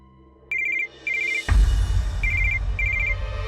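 A landline telephone rings in a home, in short bright trilling bursts repeated several times, loud and close, with a low rumble in the room beneath it.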